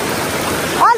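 Rushing water from a village stream in Nepal fills a brief stretch with a steady broadband wash, and a voice cuts in just at the end.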